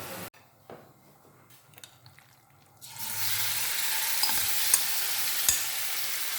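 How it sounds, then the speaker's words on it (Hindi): Marinated chicken pieces shallow fry in oil over high flame. A few quiet knocks and clicks come first, then a loud, steady sizzle starts suddenly and runs on with small pops. "हमने इसको शैलो फ्राई कर लेना है"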